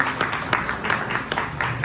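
An audience at a government kit distribution event in Mallital block claps to welcome a guest, a short burst of scattered, moderately loud applause heard from close by in a crowded space.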